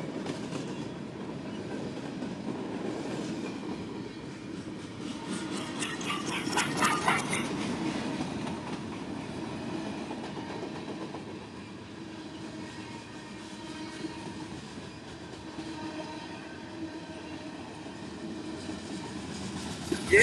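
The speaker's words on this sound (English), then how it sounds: "looks like we got the rear end of the train coming up" A CSX freight train rolls past nearby on the Henderson Subdivision at Madisonville, Kentucky, with a steady rumble and clattering wheels, a faint squeal rising briefly, continuing without letup.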